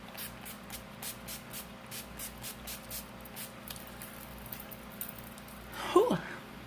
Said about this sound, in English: I'm using this NYX Matte Finish Long Lasting Setting Spray.